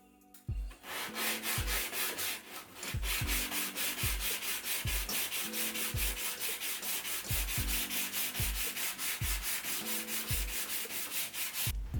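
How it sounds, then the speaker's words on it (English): Wood from a pallet garden table is sanded by hand in close, rhythmic back-and-forth strokes, a continuous abrasive rasp with regular pulses and no talking. "then I gave everything a sand"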